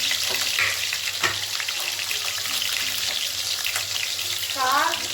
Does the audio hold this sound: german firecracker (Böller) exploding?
no